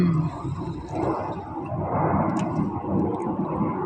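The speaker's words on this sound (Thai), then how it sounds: "เสียงเครื่องบิน" A continuous low roar of an airplane flying overhead near an airport in France rumbles steadily, broad and moderately loud, with no voices.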